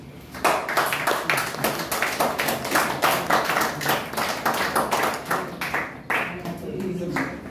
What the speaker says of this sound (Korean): 나오실 때 우리 박수 한번 보내 주시죠